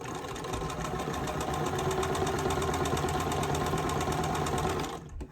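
A sewing machine stitches quilt block pieces with a steady, rapid mechanical whir that runs continuously, then slows and stops near the end. The machine is close and no one talks.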